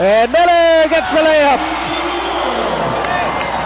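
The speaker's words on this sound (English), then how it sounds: "And the crowd here is going bananas." A basketball arena crowd in Batangas roars during a Barangay Ginebra versus Alaska game, a steady loud cheer beneath an excited commentator's voice that drops away, leaving the crowd noise alone.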